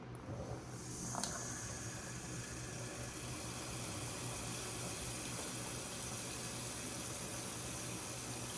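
Dye being rinsed off ESEE knife scales under a running sink tap, a steady broadband rush of water that starts with a brief clunk and then flows evenly and fairly close for several seconds.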